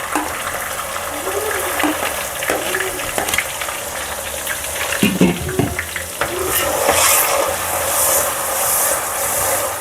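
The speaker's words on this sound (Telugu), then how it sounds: "ఆనియన్స్ వేసేసుకుంటున్నాను." Onions frying in hot oil inside a clay pot for mutton curry, a steady crackling sizzle throughout with a few louder stirring clinks and scrapes near the middle, close and moderately loud, no voices.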